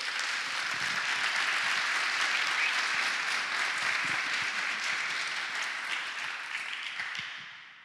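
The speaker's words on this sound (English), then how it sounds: "So give him a warm applause." Steady, warm audience applause at a design and enterprise architecture conference welcome, dense and full for several seconds before tapering off at the end.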